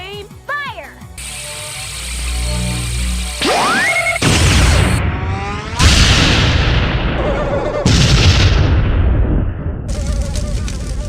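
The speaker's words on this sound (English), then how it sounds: "The Gargantus Mega Cannon." A cartoon mega cannon fires amid a dense barrage of mechanical ratcheting, whooshing sweeps and blasting bursts, several loud explosive hits stacked one after another with no talking.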